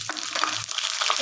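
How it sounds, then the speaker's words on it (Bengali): Whole cumin, bay leaf and dry red chilli crackle and sizzle in hot oil, a dense, fairly loud spattering hiss that lasts the whole short moment. "তেল ভালোভাবে গরম হয়ে গেছে, এবার ফোড়নগুলো তেলের মধ্যে ছেড়ে দিচ্ছি"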